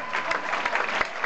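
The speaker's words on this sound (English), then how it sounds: "A round of applause for all these guys." Audience applause as the cast of the Canadian hockey comedy film Goon is called up on stage at a Q&A, steady dense clapping filling the whole short stretch with a few sharper claps standing out.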